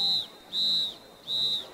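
A referee at a high school football scrimmage blows three shrill whistle blasts, evenly spaced and clear, each lasting about a quarter second over a quiet field background.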